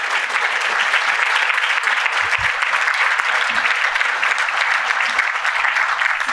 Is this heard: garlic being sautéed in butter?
no